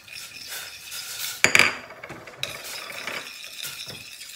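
A spoon stirs a lemon juice and orange juice mixture in a cooking pan, giving a steady scraping swirl with a couple of sharp metallic clinks partway through, close up and with no talking.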